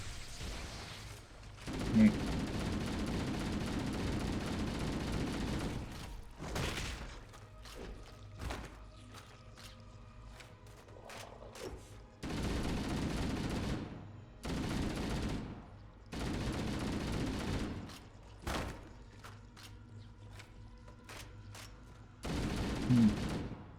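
Rapid gunfire bursts from Halo: Combat Evolved, several loud volleys separated by short gaps, with people talking between and over the shooting.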